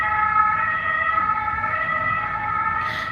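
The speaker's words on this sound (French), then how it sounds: "il y a des ambulances qui passent" Ambulance sirens wail steadily and loudly as the vehicles pass along the road, with a continuous wavering tone and faint traffic rumble beneath, and no voices.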